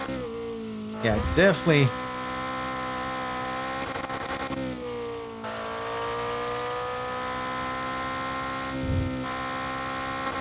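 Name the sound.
600 horsepower race car engine in video game RevHead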